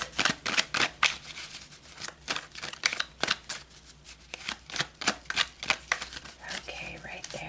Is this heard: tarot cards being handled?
yes